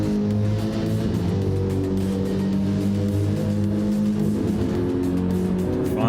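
Race car engines at Monza in the video game Gran Turismo 7, droning loudly and continuously with layered harmonic tones shifting in pitch as the cars run through a fast corner, with a rising rev at the end.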